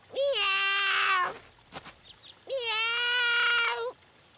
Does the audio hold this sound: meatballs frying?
no